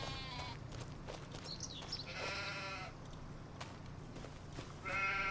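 Sheep bleating in Farming Simulator 25 at a farm with hay bales, several bleats and calls rising over a steady low farm ambience, fairly near and clear with no talking.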